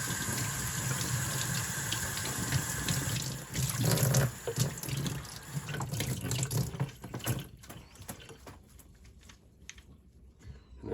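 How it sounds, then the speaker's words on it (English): Running warm water splashes from a tap over a two-stroke engine air filter being rinsed, loud and steady at first, then tapering to thinner trickles and drips. "Really rinsing it with warm water"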